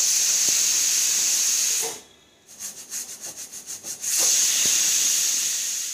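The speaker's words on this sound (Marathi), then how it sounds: "आता कुकरची वाफ उडलेली आहे" A pressure cooker holding a mixed vegetable dish vents steam in a loud, sharp continuous hiss, breaks off briefly into a rapid series of pulsing puffs, then returns to a full steady hiss.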